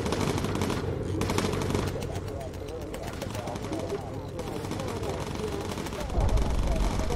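Rapid machine-gun bursts from a bomber's gunners in Bomber Crew, dense continuous rattling fire under engine drone, with voices talking over it.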